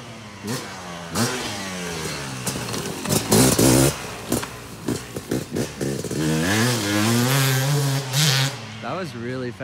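Yamaha YZ250X dirt bike laps a small rocky turn track, its engine revving up and down repeatedly at mid distance while people talk over it.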